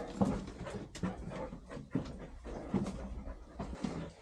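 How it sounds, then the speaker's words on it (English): A dog panting and whimpering on a walk out of a flooded abandoned mine in Utah, close and soft, with repeated short breathy pants and small whines in a steady rhythm. "Good little doggy's keeping an eye on me."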